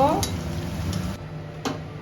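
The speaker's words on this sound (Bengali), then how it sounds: "এখন এই তেলটার মধ্যে আমি বেরেস্তা ভেজে নেব" Sliced onions for beresta fry in hot oil in a pan, a steady soft sizzle with a few sharp clinks of a utensil against the pan; no talking.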